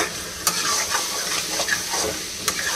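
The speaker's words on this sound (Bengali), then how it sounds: "ভালো করে নেড়ে একটু কষা হয়ে গেলে প্রেসারে" Mutton curry being stirred and fried in a pan: a continuous close sizzle with a few sharp scraping knocks of the stirring utensil against the pan, and no voices.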